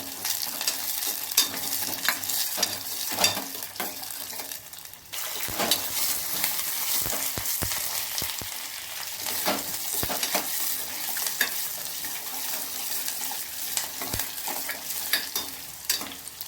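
Green chilies and carrot fry in hot oil with cumin and mustard seeds, giving a steady close sizzle broken by frequent scraping stirs of a spoon against the pan.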